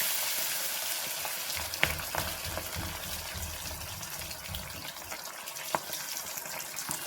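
Chicken pieces shallow-frying in a pan at home, a steady crackling sizzle with occasional sharp pops and faint stirring clatter throughout, no voices.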